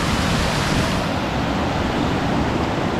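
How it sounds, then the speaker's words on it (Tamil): Water rushes at Tada Ubbalamadugu waterfall in Andhra Pradesh, a loud, continuous broadband roar heard close up, with some wind on the microphone and no talk. "இங்கேயே நல்ல தண்ணி வருது பாருங்க, எவ்வளோ அருமை அப்படிங்க"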